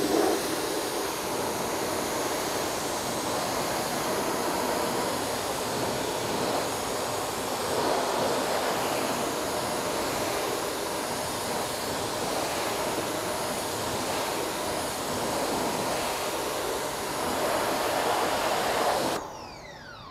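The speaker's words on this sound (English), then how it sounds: "I'll just rinse it off and I'll show you guys the big before and after" A car wheel on a long-unwashed Mazda Miata gets rinsed with a continuous, loud spray of water hissing steadily for nearly twenty seconds before cutting off abruptly near the end.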